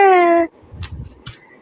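A kitten gives one clear, loud, high meow at the start, followed by faint rustling and soft bumps close by.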